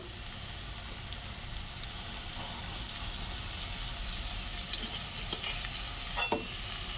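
Paneer noodles with soy sauce are stir-fried in a pan, giving a steady broadband sizzle throughout with scraping stirs and a sharper clatter of spatula near the end; no one speaks.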